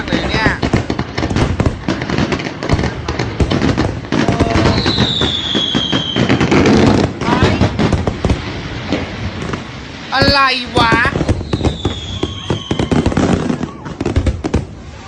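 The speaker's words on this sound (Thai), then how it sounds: "ที่ถูกแฟนหนุ่มเซอร์ไพรส์วันเกิด ด้วยการจุดประทัด200 นัด" Two hundred firecrackers set off at night for a birthday surprise crackle in dense, rapid bursts throughout, loud and close, with voices talking over them.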